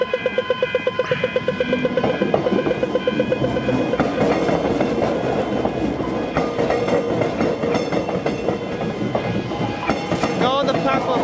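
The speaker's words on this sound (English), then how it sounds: "There goes a couple of trams across the pass over." A couple of trams pass over the Riversdale railway crossing with loud, rhythmic clacking of wheels over the rails, near and continuous, alongside some talking.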